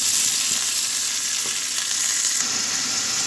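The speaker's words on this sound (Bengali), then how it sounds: "এখন আমি আর একটু কিছুক্ষণ কষিয়ে নেবো এটা।" Vegetables sautéing in a pan with ground cumin and ginger paste, a steady loud sizzle and frying hiss with faint stirring scrapes, continuous and close, with no talk.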